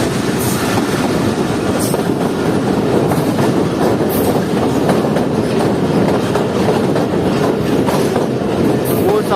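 The Jaffer Express crosses the Ravi rail bridge over the Ravi river, a loud, continuous rumbling roar of wheels on the span with rhythmic clatter and brief bright squeals.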